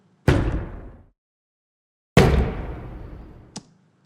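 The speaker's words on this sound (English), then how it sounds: "We have the slide of the door, and we have the impacts here." Door sound effects assembled in a sound editing session: a door slide with a sharp impact, a pause, then a second heavier slide and impact decaying, ending with a brief metallic ping.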